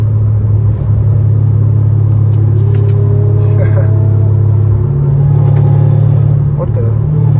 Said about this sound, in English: my exhaust is too loud for this